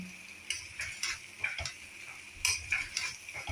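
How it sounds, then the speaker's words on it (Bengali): A spoon scrapes and taps rhythmically against a pan while chana dal halwa is stirred continuously on high heat, a series of close clinks and scrapes over a faint sizzling hiss, with no talking. "এটা কন্টিনিউ এভাবে নাড়তে হবে, তাহলে ঝরঝরে হয়ে যাবে, শুকনো হয়ে যাবে।"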